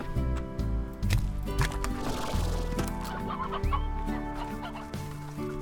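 Roosters clucking in the video game Slime Rancher, repeated close clucks and squawks from several birds over light game background sounds, with no talk.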